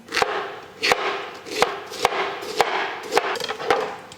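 A knife chops cauliflower and broccoli on a cutting board in a home kitchen, with about eight sharp, evenly spaced knocks landing close by.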